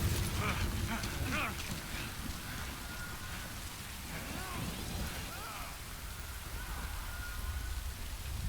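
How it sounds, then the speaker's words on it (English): Steady rain falls across an open landscape in the video game Death Stranding, a dense, even hiss that holds at moderate loudness throughout with faint low rumbling beneath and no voices. "Good thing it was raining."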